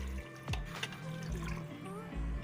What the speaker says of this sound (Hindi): 1 गिलास इसमें पानी डालूंगी